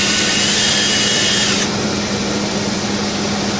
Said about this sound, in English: So I can drill my holes.